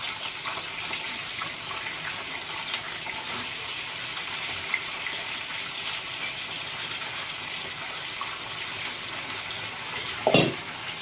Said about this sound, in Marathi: तर आता याला तळते. आणि इकडे बघा आता याला मी तळून घेते.